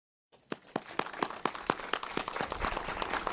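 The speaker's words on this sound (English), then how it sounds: "give yourselves a round of applause" Applause at a school award event with officials, starting after a brief silence as separate claps that quickly build into steady, fairly close clapping from a crowd.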